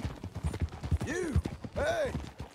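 Horse hooves clip-clopping in the video game Red Dead Redemption 2, a few soft, irregular thuds close by, mixed with a horse's whinny-like tonal sweeps and a voice speaking over them.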